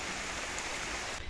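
Heavy rain falling steadily in Dehradun during days of waterlogging, a dense continuous hiss that is loud and close, with no talking.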